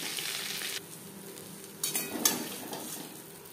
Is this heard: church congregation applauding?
no